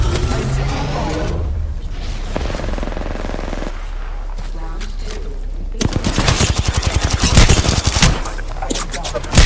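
Gunfire in the video game Apex Legends, with steady shooting that turns into a loud, dense, rapid burst of automatic fire over a constant rumbling background.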